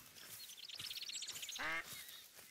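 A mallard duck in theHunter Call of the Wild quacks in a quick chattering series of nasal calls, followed by one louder, drawn-out quack, fairly faint against quiet outdoor game ambience.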